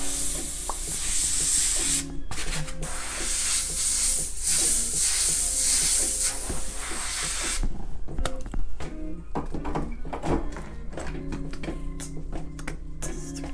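A spray paint can sprays graffiti in long hissing bursts, steady at first and then broken into shorter sprays separated by brief pauses and handling noises, close and loud with no talking.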